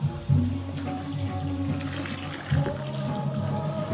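Water runs steadily from a tap while a dog is washed with soap, a continuous close splashing flow under a low hum, with no voices.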